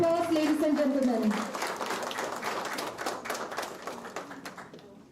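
An audience applauds grant winners at a youth fair, a burst of clapping that starts strong, thins out and fades toward the end, with a voice speaking over the opening moments.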